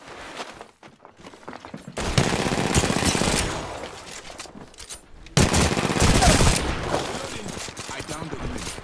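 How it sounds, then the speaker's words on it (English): Loud bursts of rapid automatic gunfire in an Apex Legends match, two long dense volleys separated by a quieter stretch with scattered shots and footsteps. "I am taking fire."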